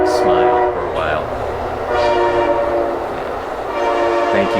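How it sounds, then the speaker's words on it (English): A CN freight train rolls past with a steady rumble while its horn blasts several long, loud, sustained tones that swell and fade. A voice speaks faintly underneath. "Train has to be a part of our program periodically."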